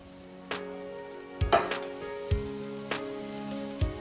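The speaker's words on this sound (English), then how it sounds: "Ooh, I love that sizzle." Garlic sizzles softly in hot oil, with a few sharp pops and crackles breaking through a quiet steady fry.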